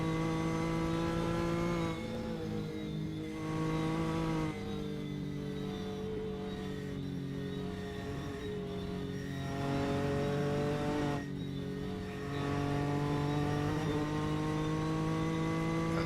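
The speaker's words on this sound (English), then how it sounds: "shifts 2 gears here as he heads into the Porsche curves." A race car on the Le Mans circuit in a racing video game, its engine whining steadily and dropping in pitch as it shifts gears several times heading into the Porsche curves, loud and close with no talk.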